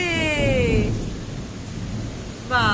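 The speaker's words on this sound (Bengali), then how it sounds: "গনগন করে মেঘ ডাকছে আর বৃষ্টি হচ্ছে" Thunder rumbling through steady rain during a storm, a low continuous roar with a baby's high cry or babble near the start and again at the end.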